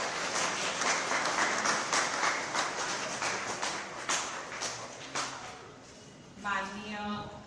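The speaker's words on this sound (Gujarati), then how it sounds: "તાળીઓ પાડો બધા ફરીથી." Children at a school for deaf and mute pupils clap for a visiting chief minister, a dense, lively round of applause with sharp individual claps that thins toward the end, with a voice speaking near the close.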